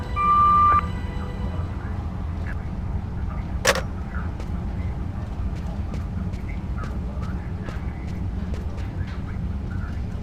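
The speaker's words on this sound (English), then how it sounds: "Please leave a message after the beep." An answering machine beep in the video game Fahrenheit: Indigo Prophecy: one steady, loud electronic tone lasting under a second, followed by low room hum with a sharp click and faint scattered ticks.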